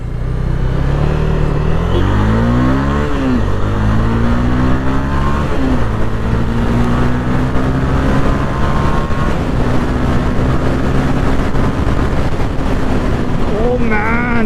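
A 2024 Honda CB300F 300cc motorcycle accelerating hard, its engine note rising in steady sweeps with a thin whine on top, heard under constant wind rush from riding.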